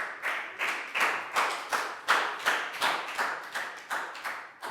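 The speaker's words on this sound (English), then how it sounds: "Big round of applause for Chu, please, guys." Classroom of Year 4 students clapping in unison for a classmate during an English lesson, about a dozen crisp rhythmic claps at a steady even pace, fairly close and with no talking.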